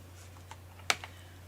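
Sparse keystrokes on a computer keyboard, a few soft clicks and one sharper tap, close and quiet over a low steady hum.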